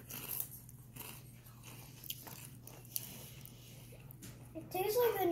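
Colombian Yums potato chips being bitten and crunched, a few sparse crisp crunches spread across the clip with a louder chewing burst near the end, close to the mic over a steady low hum.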